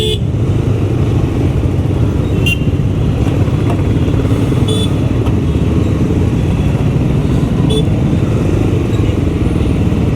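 A 350cc motorcycle engine drones in Bengaluru traffic, loud and close, in a constant thrumming roar with other vehicles blending into the steady road noise.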